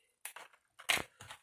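Small scissors cut through paper in a few short, crisp snips, close and quiet, separated by brief silences, with no talking.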